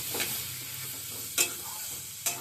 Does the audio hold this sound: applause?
no